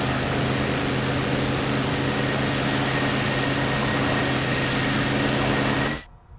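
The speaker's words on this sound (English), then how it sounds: "His engine's dying on him as well." Aircraft engine in the Il-2 Sturmovik: Battle of Stalingrad flight game, droning steadily with a low harmonic hum and a thin whine, then cutting out abruptly near the end into near silence.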